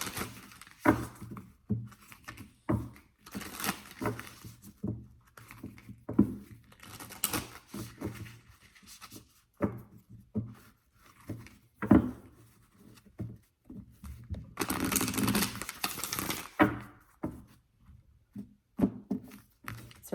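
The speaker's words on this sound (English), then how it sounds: "I've been using this deck a lot all day, so I want to make sure that I have everything super shuffled" An oracle numerology card deck is shuffled repeatedly by hand, with short papery riffles and soft taps coming in uneven bursts between pauses and a longer, louder shuffle partway through, close up.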